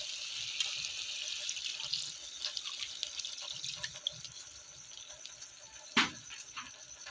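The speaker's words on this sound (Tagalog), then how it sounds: "mag-add tayo ng water" Water pours into a pan of sautéed vegetables with sardines, a soft close splashing and trickle with light clinks and one sharper knock near the end.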